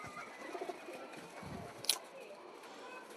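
Pet pigeons coo softly in low, throaty murmurs, faint and somewhat distant. A sharp click cuts in midway, and a quiet voice speaks at times.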